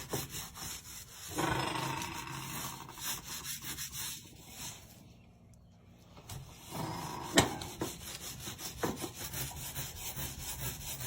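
A microfiber sponge scrubber scrubs a greasy stove top in repeated rough rubbing strokes that pause briefly midway and then resume, close and fairly loud.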